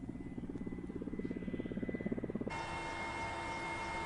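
A helicopter flying over northern Afghanistan, its rotor producing a steady rhythmic chop that fills the sound, then shifting abruptly into an even, droning engine hum.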